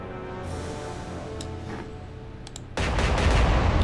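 Warship guns firing in the naval game Atlantic Fleet, a low rumbling barrage that surges into a heavier, louder roar of gunfire near the end.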